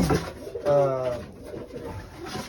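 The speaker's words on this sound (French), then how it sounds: "C'est des beaux pigeons de très bonne qualité." Pigeons of show quality coo in low, throaty bursts while being handled, a rolling call standing out near the middle amid background chatter and handling noise.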